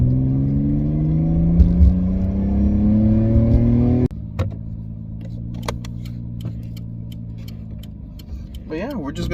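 A Nissan Skyline R32 engine runs close by, revving with a rising drone and then settling to a steady idle while faint ticking and clicks sound over it, with a short voice near the end.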